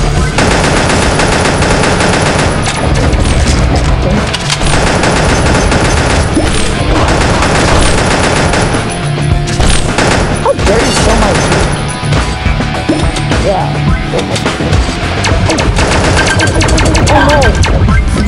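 Gunfire in the Pixel Gun 3D mobile shooter, loud, rapid machine-gun bursts and dense fusillades that run almost continuously, with booms and crashes mixed in.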